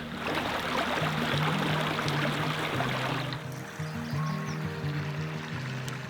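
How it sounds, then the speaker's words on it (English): Babbling creek beside a hiking trail in Zion National Park, a steady rushing water sound heard close by, with a faint voice murmuring underneath. "you can hear this like babbling brook right next to us"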